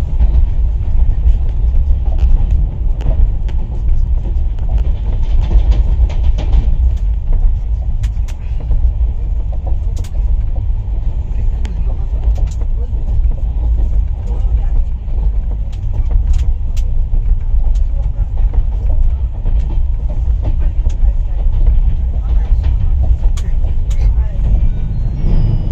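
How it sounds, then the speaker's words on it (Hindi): Onboard the Sealdah Ajmer Superfast Express at full speed, a loud continuous low rumble with faint rattles and clicks, steady throughout and without pauses. "शियालदा अजमेर ने शियालदा छोड़ने के कुछ ही देर बाद पूरी रफ्तार पकड़ ली है"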